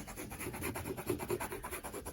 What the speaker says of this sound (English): connect all the dots with pencil first